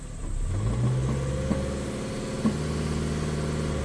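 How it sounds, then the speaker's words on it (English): A Chevrolet Cruze turbo engine with a rough idle runs up close in a steady, labouring drone that never climbs much in pitch, with a couple of faint knocks partway through. "Okay, so it doesn't really want to rev up."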